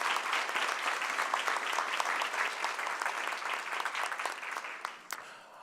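At the opening session of a criminal sciences seminar, an audience claps for the sponsors with steady, dense applause at moderate distance that thins out toward the end.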